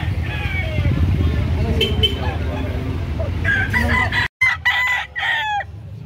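A rooster crows loudly nearby, with other fowl clucking and calling over a steady background of voices and passing traffic.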